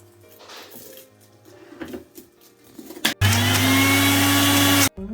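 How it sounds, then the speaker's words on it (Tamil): A kitchen mixer grinder blends sambar powder and chili powder, starting abruptly after quiet kitchen handling noises and running loud and steady for nearly two seconds before cutting off. "சாம்பார் பொடி குழம்பு மிளகா பொடி இது எல்லாத்தையும் மிக்சி அடிச்சோம்"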